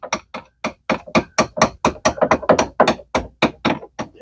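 A small hammer taps a steering shaft CV boot up into place, a rapid series of about twenty sharp, close metallic knocks in steady, slightly uneven rhythm with no talking.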